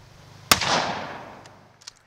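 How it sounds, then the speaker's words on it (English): A 12 gauge Remington 870 Police Magnum shotgun fires a single round of 00 buckshot outdoors, one sharp loud blast followed by a long decaying echo, with a few faint clicks afterward. "I just used it to fire a single round into the gelatin from a distance of 20 yards."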